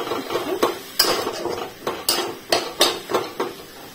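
A spatula scraping and knocking against a pan while salted vegetables are stirred, a series of sharp metallic strokes at an irregular pace over a faint background hiss.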